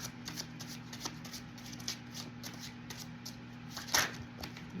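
Tarot cards are shuffled in hand for a spread, the rapid papery riffling steady and close throughout, with a sharper flurry of cards near the end.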